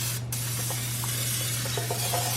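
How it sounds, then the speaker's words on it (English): Cooking spray misted into a deep casserole dish in a home kitchen, a short soft hiss over a steady low background hum, with no talking. "I'm going to spray my casserole dish"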